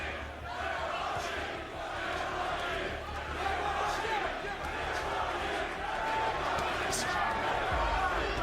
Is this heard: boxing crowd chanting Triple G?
yes